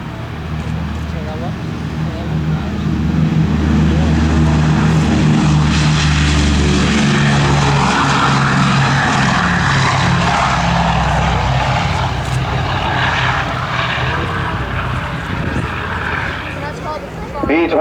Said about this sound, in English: B-17G on the runway, on the takeoff roll